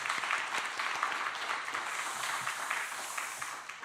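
A church congregation applauds together in steady, dense clapping that holds for several seconds without a break and with no talking.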